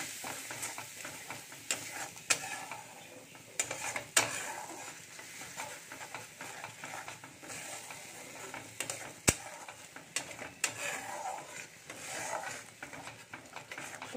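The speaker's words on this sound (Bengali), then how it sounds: "মশলাটা খুব ভালো করে কষিয়ে নেব।" Masala with ginger and garlic sautés in a hot pan, a steady soft sizzle punctuated by sharp clinks and scrapes of a utensil stirring against the metal.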